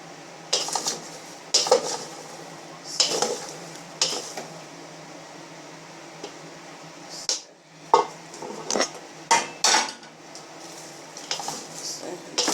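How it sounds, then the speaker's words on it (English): A spoon scrapes and clanks against a pot as popcorn is stirred with sugar, giving irregular bursts of metallic scraping and knocks separated by softer pauses. "Continue to stir it up like this."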